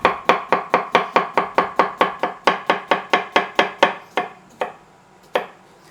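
A knife slices cucumbers on a cutting board for salad in a home kitchen, about twenty quick, evenly spaced chops in a steady rhythm, then a few slower, separate cuts before it stops.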